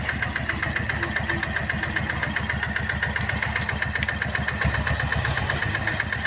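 A Yanmar engine drives a green farm vehicle straining uphill, giving a close, loud, steady chugging of rapid even thumps that runs without a break and with no voices.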